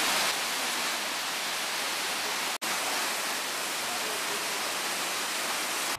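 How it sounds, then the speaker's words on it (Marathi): Bamonbudo waterfall in Goa roars as a steady, dense broadband rush of falling water, loud and continuous, with one brief cut partway through. "हो गांव डोंगरीतलो फामाद बामणबुडो धबधबो."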